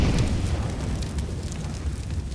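A frag grenade explosion in CS:GO, a deep rumbling boom that lingers as a low roar for a couple of seconds, loud and close with no talk over it.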